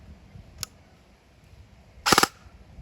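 A faint mechanical click, then a single sharp snapping shot from a G&G RK74 airsoft rifle on semi-auto with a brief rattle, close and otherwise quiet.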